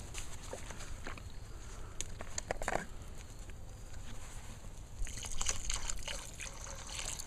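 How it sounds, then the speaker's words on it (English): Water poured into a pot of red beans and rice, a faint trickling and splashing with soft drips and a few clinks, close by and fairly quiet, with no talk. "now we'll put in a little bit more water"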